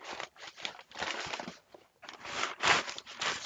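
Paper is unwrapped from a birthday present, close-up crinkling and crumpling in uneven bursts separated by brief pauses, with no voices over it.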